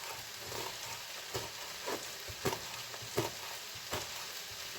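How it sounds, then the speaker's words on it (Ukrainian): Steady sizzling and crackling of eggplant frying over high heat in a pan, with a few louder pops and stirring scrapes, fairly close. "На великому вогні жаряться, смажаться в мене баклажани."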